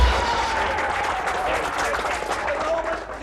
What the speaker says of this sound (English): They was clapping me.